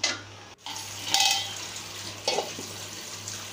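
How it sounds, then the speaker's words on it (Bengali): A spoon scrapes and stirs pabda fish masala in a pan, producing soft intermittent scraping and faint sizzling at close range, with quiet gaps between the strokes. "একটু মশলাটা আর কি নাড়াই চাড়াই দিতেছি"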